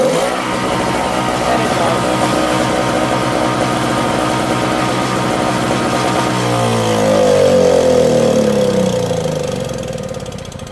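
A two-stroke Yard Machines snowblower engine runs loud and close after a pull start. It holds a steady buzzing idle, then revs up and settles back down near the end, with no voices.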